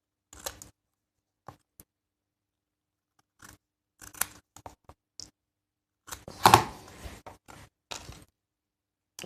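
Scissors trimming, heard as a scattering of crisp, close snips separated by quiet gaps, with a denser cluster of cuts and rustling about two-thirds of the way through.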